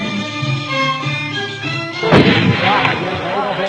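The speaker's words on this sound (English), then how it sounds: "On the mountain, the Sufyans welcome Sheikh Abdullah and the Ammars, showing off their shooting skill" Yemeni tribesmen fire guns in a shooting display on a mountain, in archival footage from 1975. Someone speaks, then a heavy booming report rings out with a long rumbling echo under the continuing narration.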